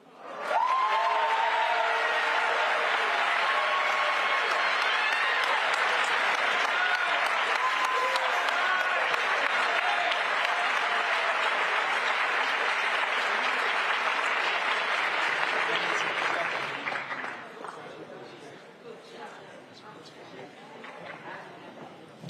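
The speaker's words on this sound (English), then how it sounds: "Give another round of applause." Loud, sustained applause fills a high school gathering for about seventeen seconds, dense and continuous with faint voices mixed in, then tapers off into scattered claps and crowd murmur.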